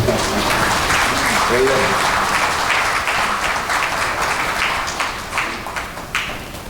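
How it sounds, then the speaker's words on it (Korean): An audience at a year-end peace ambassadors' gathering and lecture in Icheon applauds steadily, a loud, dense wash of many hands that tapers slightly toward the end, with a voice speaking over it at the start. "박수 한번 보내주시면 좋겠는데"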